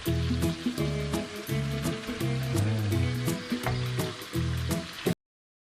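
Chicken pieces dropped into seasoned spice paste sizzle steadily in a pan while cooking Indonesian nasi uduk; the frying hiss runs continuously beneath background music.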